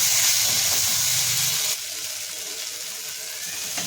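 Masala frying in hot oil in a pan for a dry fish curry, a steady bright hiss that starts loud and then settles into a quieter, even sizzle.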